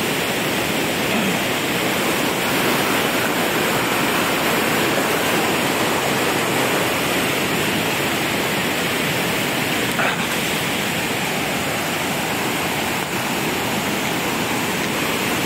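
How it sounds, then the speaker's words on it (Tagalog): The strong current at Aliwagwag Falls roars as a steady, loud wash of rushing water, unbroken for the whole stretch, with no voices heard over it. "Kasi medyo malakas yung agos ng tubig eh"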